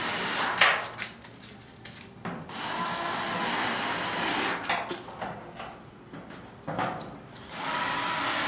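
A power drill drives a screw while an electrical cover is being fitted, with several short whirring bursts followed by longer sustained runs and brief pauses between them, heard up close.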